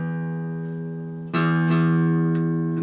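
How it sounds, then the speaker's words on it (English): A guitar's thickest string, the low E, rings with a steady sustained tone, then is plucked again about midway so the note swells louder and keeps ringing, heard close and alone. "And that's how the low E sounds."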